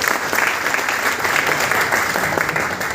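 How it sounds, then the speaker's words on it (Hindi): An audience at a function claps in dense, loud, sustained applause, the steady roar of many hands filling the space without a break. "जोरदार ताली होनी चाहिए"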